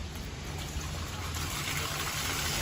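Water trickles and splashes steadily off the roof of a Jayco 27BHB travel trailer during winterizing, a continuous close hiss with no break in the flow.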